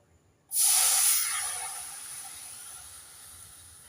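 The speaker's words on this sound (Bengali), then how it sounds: "এবার কড়াইয়ে দিয়ে দেব একটু জল" Water hits a hot kadai on a gas stove, bursting into a loud, sudden steamy hiss that slowly fades to a softer sizzle over a few seconds, heard up close with no talk.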